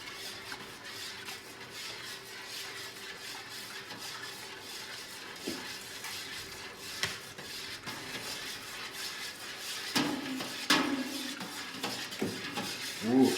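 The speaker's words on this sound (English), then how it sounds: "Continue to stir while you're adding." Liquid malt extract stirred into wheat beer wort in a brewing pot, a steady low scraping and sloshing with occasional metallic clinks against the pot, moderately quiet and continuous.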